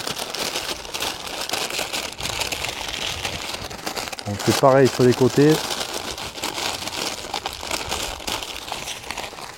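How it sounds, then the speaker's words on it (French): Parchment paper crinkles and rustles as it is folded, close by, while a person talks over it. "En premier temps, on va plier le papier cuisson"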